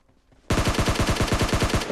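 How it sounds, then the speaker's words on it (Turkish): Rapid automatic M4 rifle fire in PUBG, a sustained burst of about fifteen sharp, loud, evenly spaced shots starting abruptly after a quiet moment. "Şuradan bir silah sesleri geliyor. Arkadaş M4 sıkıyor hala ya."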